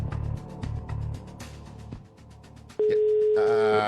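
A telephone rings and a dial or busy-type tone sounds during a live TV SMS game prize draw in French Polynesia, with repeated electronic ring bursts and then a steady loud tone near the end, with no voices.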